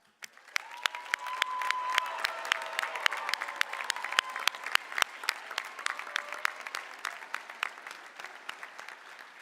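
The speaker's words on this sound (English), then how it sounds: "Let us give them another round of applause." Graduates at a University of Michigan-Flint commencement ceremony receive a round of applause, heard as moderately quiet, distinct claps from a crowd with sharp individual hand strikes across a large hall.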